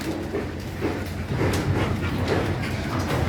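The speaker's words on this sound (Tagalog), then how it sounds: "Yan po yung pantanggal ng stress mga alagang aso." Dogs bark and whimper close by, several short yelps and whines over a steady low rumble, continuous throughout.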